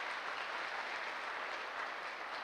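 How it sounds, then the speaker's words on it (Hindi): Audience applause at a gathering in Darbhanga, Bihar, steady dense clapping from many hands heard throughout, fairly faint and distant, with no talking. "मैं चाहूँगा सर के लिए एक ज़बरदस्त वाली ताली होनी चाहिए।"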